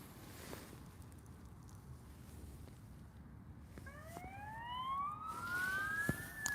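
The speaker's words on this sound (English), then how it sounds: "It's all going on with the sirens." Emergency vehicle sirens wail from a distance near a shingle beach where bass fishing is under way, rising sweeps emerging over steady wind and surf noise and growing louder toward the end.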